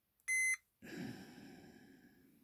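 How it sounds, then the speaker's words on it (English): A single short, clear electronic beep from a multimeter's continuity buzzer while testing an antenna capacitor, followed by a faint low rustle of handling. "Let's put the buzzer on."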